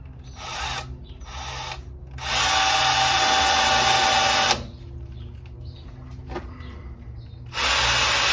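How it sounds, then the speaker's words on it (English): Electric drill drilling into the center of a broken bolt near an oil cover, running in short whirring bursts: two brief pulses, a longer sustained run, a pause with faint clicks, then starting again. "So let's get this drill in here."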